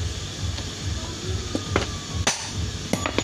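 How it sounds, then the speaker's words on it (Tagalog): An impact driver hammers at a bolt on a Honda RS 100 motorcycle, giving a few sharp metallic blows over a low background hum. "banatan nyo ng impact drive"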